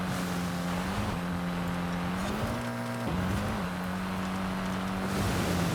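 A rally-spec Mitsubishi Evo X races in Forza Horizon 5 across Mexico, its engine holding a loud, steady drone with brief dips and pitch shifts as gears change, continuous with no voices.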